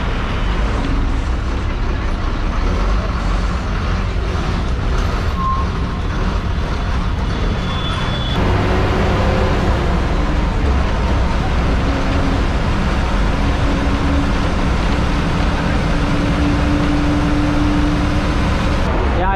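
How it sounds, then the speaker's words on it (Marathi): Long queue of heavy trucks and buses on an unfinished bypass road at Waranga Phata, on the Nanded–Mahurgad route: a loud, continuous rumble of engines and road noise that grows denser and heavier about midway through. "त्यामुळे तुम्ही गाड्या बघू शकता की किती हेवी गाड्या आहेत. सगळ्या म्हणजे लाईनच लागलेली पूर्ण गाड्यांची."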